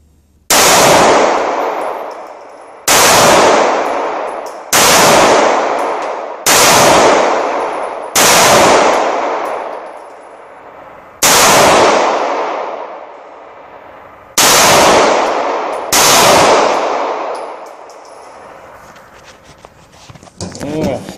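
A Star BM pistol fires eight loud, sharp test shots at irregular intervals of roughly two seconds, each crack followed by a ringing decay, with faint handling noise at the end.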